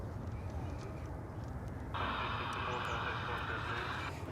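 Jet airliner taking off from a runway at Dallas/Fort Worth Airport, a steady roar that swells suddenly and holds loud, heard under faint radio chatter.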